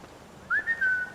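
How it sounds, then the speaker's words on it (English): A person whistles a short melodic phrase of a few clear, sustained notes with small pitch slides, close and alone over quiet room tone during a Skyrim play session. "I will whistle for the both of us."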